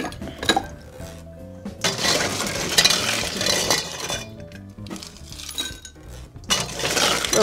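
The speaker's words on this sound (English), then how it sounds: "We're gonna ice this drink" Ice cubes clatter and clink into a shaker for an icewine cooler cocktail, bright irregular knocks and rattles in several close bursts with brief pauses between.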